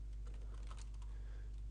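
Fast, quiet clicking keystrokes on a computer keyboard while entering JavaScript code, a close, steady patter over a low electrical hum.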